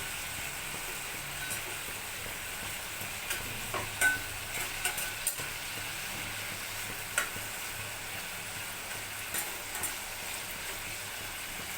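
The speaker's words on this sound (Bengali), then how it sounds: "মাছগুলো উল্টে দিচ্ছি, দু পিসটা যাতে মোটামুটি ভালোভাবে ভাজা হয়।" Prawns frying lightly in a pan at home for a prawn poppy-seed dish, giving a steady soft sizzle with a few small clinks and stirring taps, no talking.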